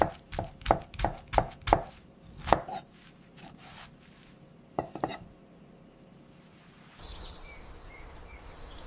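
Close, sharp knife chops thud on a cutting board cutting banana peels in a quick series, pause, then two more chops follow; faint birdsong in the background afterward.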